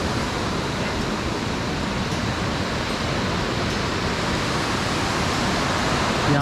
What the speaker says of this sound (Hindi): भागीरथी नदी को देखो, इसका फ्लो कितना तेज़ है।